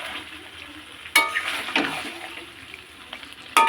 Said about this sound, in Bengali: আলুটা দিয়ে এবার কষাবো